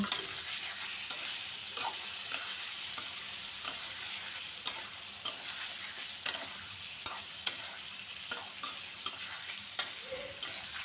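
Vegetables with mustard and green chillies sizzling in a pan, stirred with regular, evenly spaced scraping strokes over a constant frying hiss.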